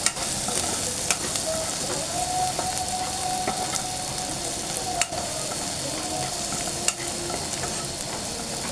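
Onion frying in a pan until brown, a continuous close sizzle with occasional scraping and knocking of a spoon stirring against the pan, no talk.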